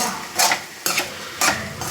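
Okra is stirred and sautéed in a pan, with three quick scraping strokes of a utensil against the pan over a soft, steady sizzle, close up with no talking.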